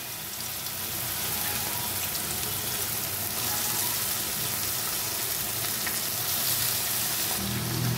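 Chopped bottle gourd tipped into hot oil with fragrant tempering spices for a Bengali fish-head curry, a loud dense sizzle holding steady throughout, close by and without talk.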